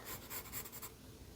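Ink pen scratching across paper while sketching an old-timey bicycle, a short soft series of quick strokes, close and quiet, then fading out.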